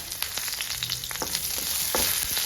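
Curry leaves, green chillies and dried red chillies crackle in hot oil in a pan for Kerala-style cabbage stir-fry, giving a dense continuous sizzle with a few sharper pops and stirring scrapes, heard alone.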